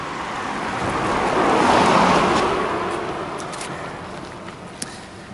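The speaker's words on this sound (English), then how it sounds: "here comes a car" A car approaches and passes on a dark road at night, a broad tire-and-engine rush swelling to a peak and fading away, heard alone without talking.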